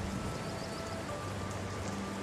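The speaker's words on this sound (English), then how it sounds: "It's raining." Steady rain falls in Tower of Fantasy, a dense, even hiss of drops with a soft low rumble beneath, constant throughout and fairly quiet, with no talking.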